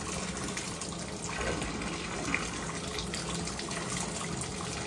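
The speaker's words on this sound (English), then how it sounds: "So now the water's getting deep enough where your full boot is literally submerged in there." Tap water pouring steadily into a bathtub where cleats sit fully submerged, a continuous hissing, splashing stream heard up close at an even level throughout.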